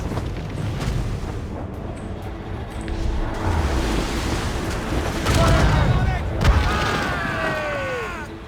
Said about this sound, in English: Ready to fire! Fire! Fire! Cannon ready! Fire!